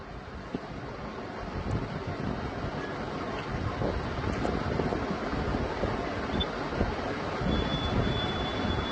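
An LG 8 kg top-load washing machine with a faulty gearbox spins with a loud, steady roar and a rough grinding rumble, close and unbroken, with no talking.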